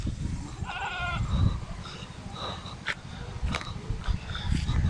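Goats bleat several times, a few wavering calls rising over a steady outdoor rumble and scattered knocks.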